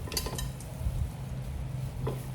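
Canned tuna flakes being mixed in a bowl for a tuna sandwich, with a utensil clinking and scraping against the bowl in a few close, irregular strokes.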